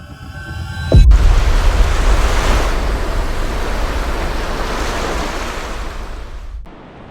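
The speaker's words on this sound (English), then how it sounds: "We're now at Ocean Beach." Surf rolls in at Ocean Beach, New Zealand, a loud, steady roar of breaking waves, rough with wind on the microphone, starting abruptly and cutting off near the end, with no voices.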